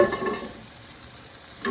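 Butter sizzling in a hot pan for a seafood cream sauce, a steady close hiss with a slight stir at the start, alone with no talk.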